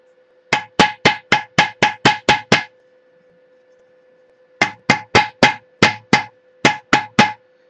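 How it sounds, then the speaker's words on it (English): A hammer forms sheet brass on a wooden stump in two quick bursts of about eight loud, evenly spaced strikes each, with a short quiet pause between the runs. "you really feel the metal as I'm hitting it"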